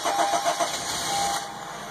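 A car engine cranks with a few rapid chugs, then catches and settles into a steady idle, recorded close with no talking.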